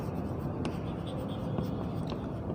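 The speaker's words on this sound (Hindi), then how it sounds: "यहाँ पे लिखेंगे" Pen or chalk writing during a maths lesson produces continuous soft scratching strokes close by, with a few brief ticks and taps.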